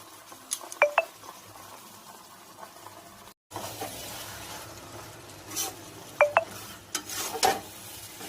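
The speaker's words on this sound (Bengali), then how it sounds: "ভালো করে একটু মিক্স করে দেব" Food being mixed in a pan with Bengali spices and a little cornflour, a spoon scraping and clinking against the metal in a few short bursts over a soft background sizzle, with a brief gap of silence midway.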